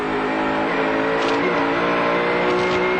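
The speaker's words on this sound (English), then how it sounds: "Now you can see him accelerating as he gets into the the wind blockage that John's providing for him." Touring race car in the 1995 Australian Touring Car Championship round at Bathurst, engine accelerating hard up the steep hill in a steady, loud, rising roar throughout.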